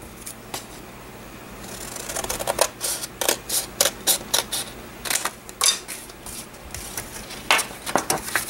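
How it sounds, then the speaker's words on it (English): Paper being cut for a traveler's notebook pocket folder, a run of crisp snipping and slicing strokes in fairly steady rhythm, close and moderately loud, with no talking. "that's going to be where I'm going to cut this"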